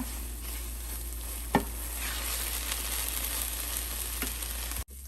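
Pear and bottle gourd halwa with ghee being stirred in a pan, a steady frying sizzle running throughout with a couple of sharp spoon scrapes, close and moderately loud, no voices.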